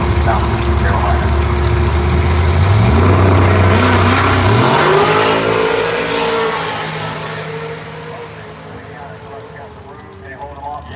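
Drag race between a 2006 Corvette and a Mustang at Bradenton Motorsports Park, engines roaring loudly as they launch and accelerate through rising gear pitches, fading toward the end, with an announcer talking over the noise.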